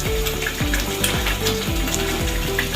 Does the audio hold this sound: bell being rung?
no